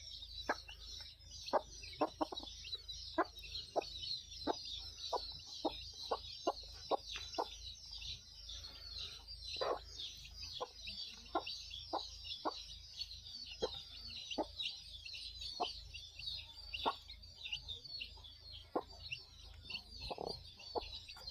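A desi hen clucks repeatedly among her newly hatched chicks, short sharp clucks at an uneven, rapid rhythm over a constant high peeping from the chicks, close and fairly quiet.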